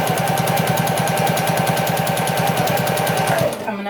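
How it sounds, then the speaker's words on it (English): A Pfaff Grand Quilter sewing machine stitches through layered quilt rows, running loud and steady with a fast, even needle rhythm before slowing at the end. "This is a Pfaff Grand Quilter."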